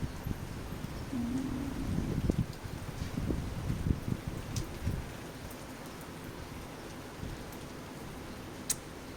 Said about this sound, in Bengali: তো দেখো কি বৃষ্টি হচ্ছে, কি পরিমাণে বৃষ্টি হচ্ছে